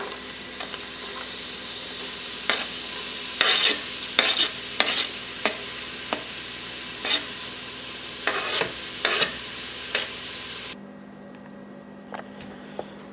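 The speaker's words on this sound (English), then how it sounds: "now the onion and garlic mixture is going to saute for about 10 minutes" Onion and garlic sautéing in a small amount of turkey fat for Zuppa Toscana soup, a steady sizzle with irregular spoon scrapes and clicks against the pot, dropping to a faint simmer in the last seconds.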